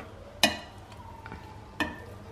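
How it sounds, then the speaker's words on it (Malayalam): The top layer of rice in a Kerala-style chicken biryani is mixed in the pot, giving two sharp spoon knocks against the vessel over a soft low background, with no speech. "ചോറ് മാത്രമായിട്ട് നമുക്കൊന്ന് മിക്സ് ചെയ്തെടുക്കാം"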